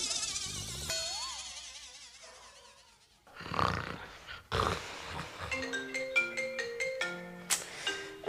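A mobile phone rings with a melodic, stepped ringtone that starts partway through. Scattered rustling and thumps come before it, and the ringtone plays clearly and fairly loud over a quiet room.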